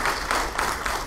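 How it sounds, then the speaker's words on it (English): Audience members at a hockey analytics conference morning session give a brief round of applause, a dense burst of clapping lasting about a second with slightly pulsing intensity. "Everyone give Krista a round of applause for helping out."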